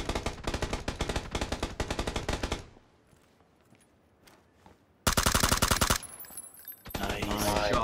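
Automatic gunfire in the PUBG video game: a long rapid burst of loud shots, a short quiet gap with faint background sound, then two more sharp bursts of rapid fire near the end.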